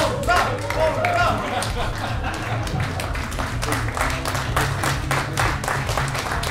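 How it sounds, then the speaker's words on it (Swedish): Talk-show studio audience applauding guest Snowy Shaw, loud sustained clapping with rapid dense hand claps throughout, mixed with crowd noise and voices. "kan ni en stor applåd för Snowy Show"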